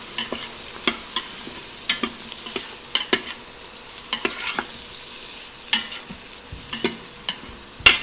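Red chili powder and Maharashtrian goda masala stirred in a hot pan for masale bhat: a continuous low sizzle broken by repeated sharp spoon scrapes and taps on the pan at an irregular pace, close and alone.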